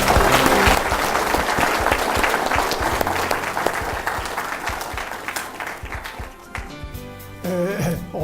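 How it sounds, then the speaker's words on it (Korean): Loud, sustained audience applause for a living Korean War hero general at a lecture marking the 60th anniversary of the armistice. A dense crowd claps throughout, tapering slightly near the end as a voice briefly comes in. "뜨거운 박수 부탁드립니다."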